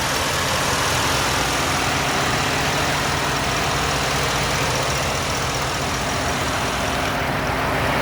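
A 2014 Ford Raptor with a 6.2-liter V8 idles steadily, a dense continuous engine rumble with heavy low end and broadband noise, loud and close, no talk.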